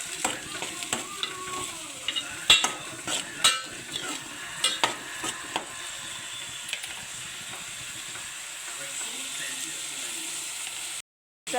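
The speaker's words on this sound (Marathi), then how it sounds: "मी टाकला कांदा हा कांदा मस्तपैकी परतून घेते" Onion and green chili sautéing in a pan, close and steady sizzle with a run of sharp clacks and scrapes from stirring early on, then a softer continuous hiss.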